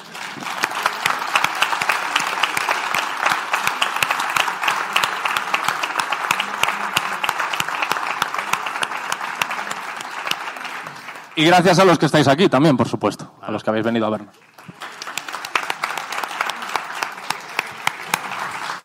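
Live audience applause for a podcast team, dense and sustained, then cut off abruptly as someone speaks in Spanish, with clapping returning afterward.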